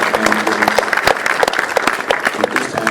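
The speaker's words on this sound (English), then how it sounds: "Let's give both candidates a round of applause again." An audience at a mayoral candidates forum in Mineola, Texas claps for both candidates, giving dense, lively applause at close range that holds steady for the whole stretch.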